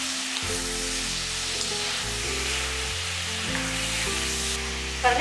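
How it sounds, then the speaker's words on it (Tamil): Chicken pieces sautéing with salt in a pan make a steady, close sizzle and frying hiss for the whole stretch, with a low hum and music-like tones underneath and a brief clatter near the end. "சிக்கனை உப்பு போட்டு நல்லா இந்த மாதிரி வதக்கியாச்சு"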